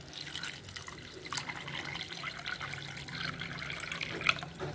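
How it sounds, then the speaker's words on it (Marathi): Water poured into a vessel of jaggery while making gulvani to go with puranpoli, a soft continuous trickle and splash close by, fairly quiet, with no talk. "आता हे गुळामध्ये मी पाणी टाकते"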